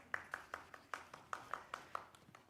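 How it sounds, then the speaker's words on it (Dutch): A single person claps steadily for the dance group Jazz It Up, about eleven evenly spaced, crisp claps at a brisk regular beat, faint and somewhat distant in a quiet room. "Mag een groot applaus."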